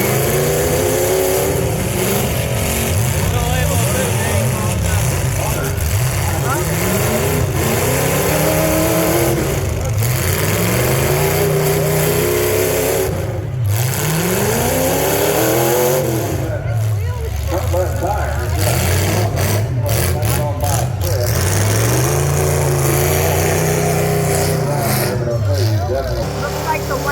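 Demolition derby cars and trucks at the Portage County Randolph Fair rev their engines repeatedly in rising and falling surges, loud and close, with crowd voices talking throughout.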